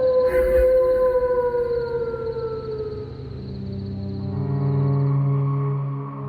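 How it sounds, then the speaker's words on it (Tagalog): A dog lets out a loud, drawn-out howl, its tone sliding and wavering like a siren as it holds on for several seconds, close and alone with no voices. "Naputol naman ang pagdadrama ko nang marinig ang malakas na alulong ng aso."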